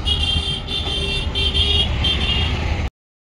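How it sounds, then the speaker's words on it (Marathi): Road traffic beside the Ulhas river, with vehicles in both directions sharing a single lane, makes a loud, steady roar of passing engines with a faint horn, close by, before cutting off abruptly. "येणाऱ्या आणि जाणाऱ्या गाड्या एकाच लेनमधून चालू आहेत"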